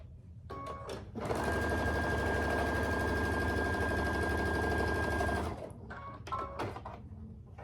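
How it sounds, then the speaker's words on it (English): A sewing machine runs steadily for about four seconds, loud and close, as quilt block pieces are stitched together, with brief handling clicks and fabric rustling before and after the stitching. "Then I'm going to sew this side together."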